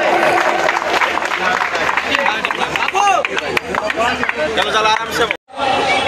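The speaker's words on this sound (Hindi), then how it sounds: "मुख्य अतिथि जोरदार ताली है" At a school annual function, a crowd claps loudly for the chief guest. A busy wash of clapping sits under a talking voice and crowd babble, and it cuts off briefly near the end.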